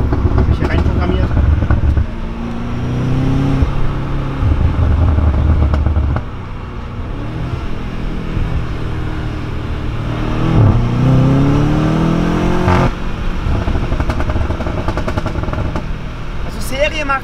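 BMW M5 F90 accelerating hard with a programmed exhaust, its engine climbing through revs and dropping back between gear changes, with bursts of popping as it comes off throttle, loud and close alongside occasional talk.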